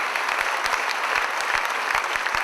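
Audience applause at a stage concert of songs, a steady, fairly close wash of many hands clapping with no voices over it.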